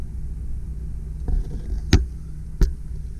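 A 2000 Ford F-150 extended cab 4x4 with a manual gearbox and 36,000 miles idles with a steady low rumble. Two sharp clicks or knocks rise above it near the end.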